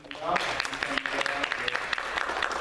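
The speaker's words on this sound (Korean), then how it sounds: "우리 박수로 우리 환영하겠습니다" A church congregation at a Sunday service claps to welcome new members, dense steady applause filling the room throughout.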